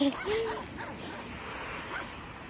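A dog barks and yips in short high bursts near the start, then keeps whimpering faintly under a noisy background with people talking.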